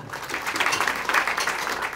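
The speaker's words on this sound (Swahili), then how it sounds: "Pigeni makofi kwa MD wetu then." An audience at a KCB leadership gathering with women and girls in Wajir applauds the managing director, a fluttering, uneven burst of many hands clapping that stays fairly loud throughout.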